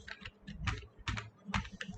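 Bursts of typing on a computer keyboard while Java code is written, uneven clusters of key clicks with brief gaps between them, close by and heard alone.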